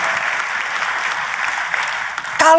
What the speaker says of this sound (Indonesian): kita kasih tepuk tangan dong yang paling meriah buat Tuhan kita